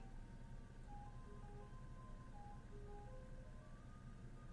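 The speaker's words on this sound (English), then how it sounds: "It's the ice cream truck is going by our neighborhood." An ice cream truck's simple melodic jingle plays steadily from a distance as it passes through a neighborhood, its notes stepping up and down over a constant low engine rumble.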